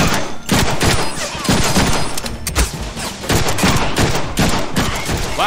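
Loud gunfire in the Deadpool video game on Xbox 360, a dense fusillade of rapid shots and impacts running throughout, with a voice briefly audible beneath the shooting.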